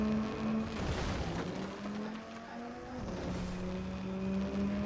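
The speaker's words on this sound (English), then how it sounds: "Switching to a little bit of a faster car here as they continue to drive away" A faster car in the Fortnite video game drives off, its engine note holding a steady high whine with small pitch shifts and gear changes, moderately loud and continuous with no talk.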